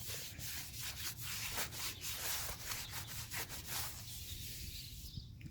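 A lint-free towel wipes grease and oily residue off a brake rotor on a 2009 Ford Taurus X. Close, continuous rhythmic rubbing strokes stay soft and steady.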